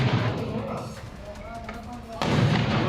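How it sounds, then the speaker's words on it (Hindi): Heavy booming blasts from six explosions set off one after another to burn a truck, with dense rumbling, one dropping off and another hitting hard near the end, loud and close. "सुरक्षा बल ने एक के बाद एक 6 धमाके कर ट्रक को जला दिया।"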